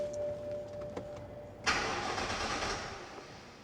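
A BMW engine with a weak battery cranks briefly and then catches, its starter whine giving way to a steady idle roar, close and fairly loud with no talking.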